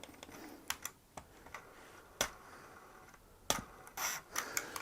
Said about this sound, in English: And then this is the click.